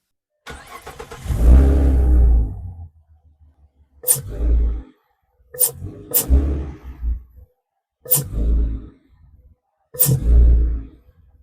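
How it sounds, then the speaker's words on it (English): A 2014 Ford Mustang engine starts, then revs in several short bursts separated by idle pauses, loud and close with a throaty intake roar. "So I'm just going to go start the car."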